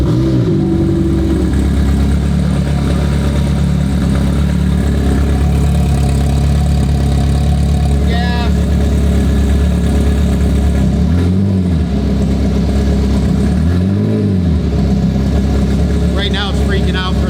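A McLaren 720 GTR race car idles loudly close by, a constant heavy engine drone with a couple of rev dips and swells, while people talk over it.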